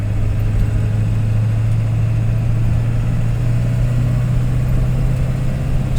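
A Ford F-Super Duty OBS Powerstroke diesel truck driving in fourth gear at about 2,500 RPM, a steady, loud, low engine hum with a constant tone throughout and no pauses.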